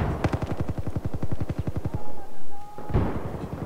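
Rapid automatic gunfire in the video game Battlefield 4, a fast, even burst of sharp shots lasting about two seconds, then a brief pause and another blast, with a faint tone and voices in the background.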